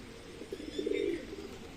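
A pigeon gives one short, soft coo at moderate distance during rainy, windy weather, rising briefly over a faint steady background hiss.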